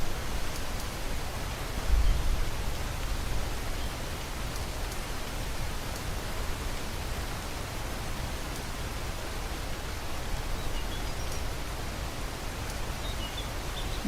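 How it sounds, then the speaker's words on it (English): Steady, even rain hisses continuously in Minecraft ambience, soft and unbroken, with no other sounds rising above it. "I love the ambience of that rain"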